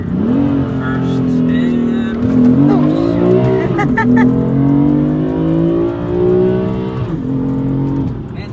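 A BMW F80 M3 pulls hard in first gear, its engine note climbing steadily in pitch through a long loud run and easing briefly between pulls, heard close from inside the cabin.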